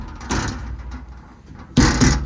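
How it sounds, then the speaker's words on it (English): Compartment doors on a 2016 Ford F-450 extended cab mechanics truck: two door closings with latching, a moderate thud and rattle early on, then a louder, nearby slam and latch near the end, with no talking. "All the doors close, latch, lock, and seal as they should"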